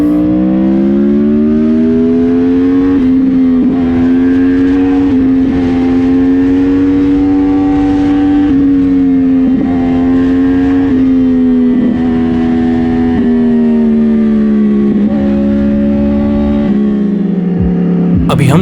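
A Yamaha R1 sport motorcycle engine drones loudly and continuously at high revs, pitch rising and dipping slightly as it accelerates, with rushing wind noise.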